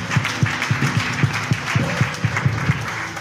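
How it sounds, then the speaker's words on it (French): Church congregation clapping in steady rhythm during a French-language worship service, a continuous mid-loud beat of hands with a murmuring crowd underneath. "Mon père, acclame Jésus."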